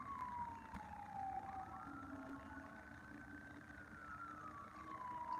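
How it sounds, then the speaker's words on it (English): Wailing sirens of an ambulance and fire truck rise and fall steadily throughout, loud and continuous over a low rumble of traffic, emergency vehicles passing nearby. "There's always a fucking ambulance and a fire truck over here."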